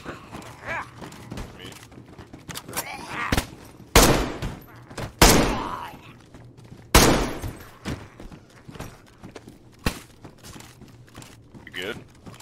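Gunfire in the DayZ video game, with several sharp, loud shots spaced irregularly over the stretch amid quieter thumps and movement, while a person talks throughout.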